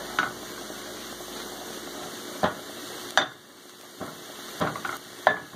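A spoon stirs garlic powder and sage into a vegetarian burger loaf mix in a bowl: a handful of separate scraping strokes, fairly close and spaced irregularly over a low steady background, with no talking.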